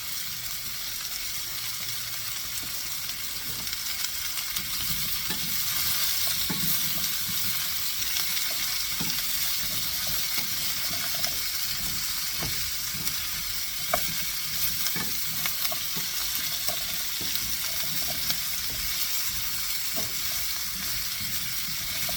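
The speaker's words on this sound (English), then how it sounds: "Add your zucchini as well." Zucchini sautéing in a hot pan, with a constant close sizzle and hiss and scattered small pops and stirring scrapes throughout, with no talking.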